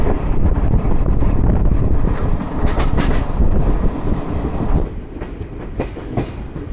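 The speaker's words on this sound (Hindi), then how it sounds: "हमारी ट्रेन 3 नंबर प्लेटफॉर्म पे आई है दोस्तों, तोरी में।" Garib Rath express train pulling into platform 3 at Tori junction after a hilly stretch, a loud steady rumble of rolling wagons and rail clatter with wind buffeting, easing slightly in the last seconds.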